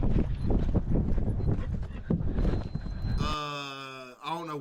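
Horse hooves clip-clopping in a steady walking rhythm, moderately close, running under ongoing talk and background noise before a horse-like whinny or vocal sound near the end.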